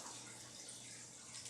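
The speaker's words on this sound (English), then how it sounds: "You fill the water up" Water runs steadily from a tap into a large canner pot in a kitchen, a continuous hissing rush at moderate level with no pauses over the short span.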